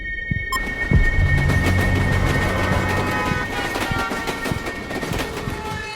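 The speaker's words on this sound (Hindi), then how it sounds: "एक फिल्म में ऐसे ही किडनैपर ने बैकग्राउंड में ट्रेन का साउंड डाला था" Train noise runs through the background of a recording, a rhythmic rumbling clatter with repeated beats and a high tonal whine at the start.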